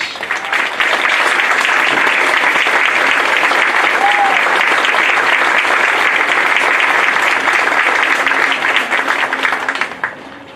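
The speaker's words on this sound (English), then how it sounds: "would you please stand and everybody give you a round of applause" Graduation ceremony crowd at Scappoose High School giving staff a sustained, loud round of applause, dense and even clapping lasting about ten seconds before tapering off.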